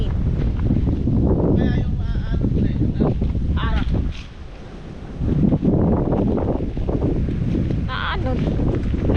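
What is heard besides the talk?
strong wind at the seashore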